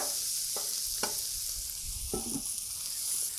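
Food caramelizing on a Blackstone griddle for a patty melt, giving a steady, close, bright sizzle with a few sharp spatula scrapes and taps against the flat-top.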